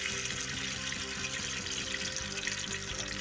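Boiled ojri (goat or buffalo tripe) being washed under running water in a sink, a steady close splashing and gushing from the tap that stays loud and continuous throughout, with no talking.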